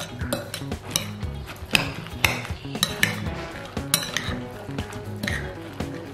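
Beaten egg mixture with sesame oil for fu yung hai stirred briskly in a bowl, giving a steady run of close metallic clinks and scrapes of utensil against the bowl, with no talking.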